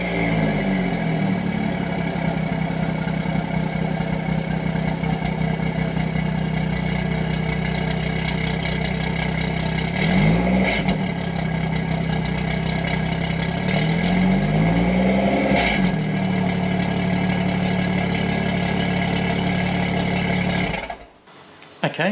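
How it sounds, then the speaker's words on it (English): Quiet car engine running at a steady idle close by, with a low even hum that swells slightly twice before cutting off near the end. "as you would have heard, that's a much quieter startup"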